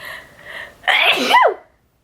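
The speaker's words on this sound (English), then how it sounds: "I have to sneeze." A single loud, close sneeze bursts out after a soft intake of breath, then quickly fades to silence.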